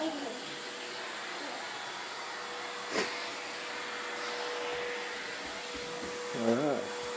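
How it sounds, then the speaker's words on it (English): A vacuum cleaner runs steadily throughout with a continuous whining drone, fairly close, with a brief bump partway through and a voice near the end. "He loves to vacuum."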